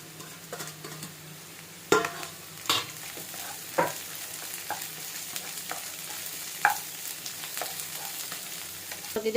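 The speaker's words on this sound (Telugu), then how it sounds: "ఇప్పుడు ఇందులోకి సన్నగా తరిగి పెట్టుకున్న క్యాబేజ్ ముక్కలు కూడా వేసి కలుపుకుందాం." Finely chopped cabbage stirred and frying in a hot pan with paneer fried rice ingredients, a steady sizzle under repeated scraping stirs and spoon clicks, close and moderate in level.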